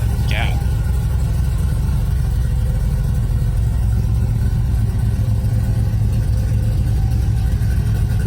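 A truck engine runs steadily with a deep low rumble that fills the whole stretch, close and loud, with a constant broadband roar and little change in pitch, while people talk over it.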